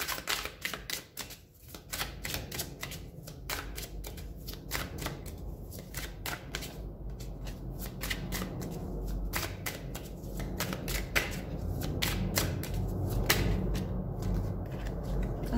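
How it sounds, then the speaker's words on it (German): Tarot cards shuffled and laid down on a table during a reading: a long run of crisp, rapid card snaps and flicks, close and steady, with no talking. "Ich werde hier noch eine Karte drauflegen."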